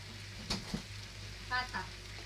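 Chicken frying in a pan for sinarsahang manok as oyster sauce goes in, a steady close sizzle with a few soft clinks and stirring sounds.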